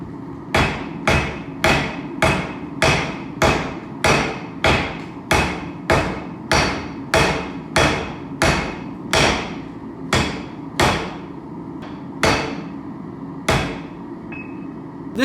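A hammer pounds steel from a coil spring as a hatchet is forged, about a dozen sharp, evenly spaced ringing blows close by, with slightly longer gaps toward the end and no talking.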